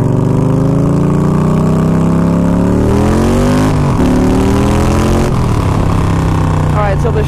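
A Yamaha Stryker muscle-style motorcycle revs loud and close on wet ground, its engine note climbing and dropping through several throttle sweeps before falling back toward idle.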